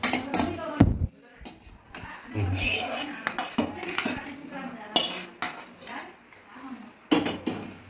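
Dried red chillies stirred in a pan with a metal utensil, giving irregular scraping and clattering knocks of varying loudness, close by.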